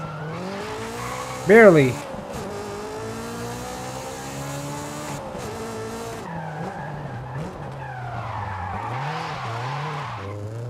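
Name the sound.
car power slide with skidding tires in Forza Horizon 5 video game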